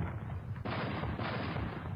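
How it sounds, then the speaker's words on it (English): Cannon fire in a harbor battle scene, heard as a dense, sustained rumble of booming shots, with a sharp louder burst midway and another surge after it, loud and without any talk. "At that moment, there was a great sound of cannons."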